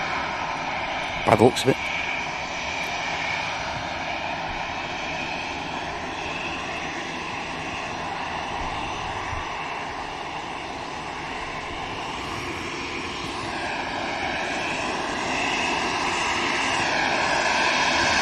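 An easyJet airliner's jet engines roar steadily at Manchester Airport as it lines up, a broad sustained rumble that swells slightly toward the end, with a brief clatter early on and someone talking over it.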